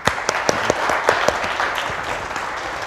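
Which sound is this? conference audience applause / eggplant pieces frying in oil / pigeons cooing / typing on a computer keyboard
conference audience applause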